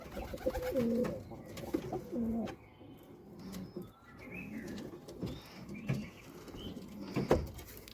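Domestic Gola pigeons in a loft give repeated low, rolling coos close by. Softer chirps and brief knocks mix in between the calls.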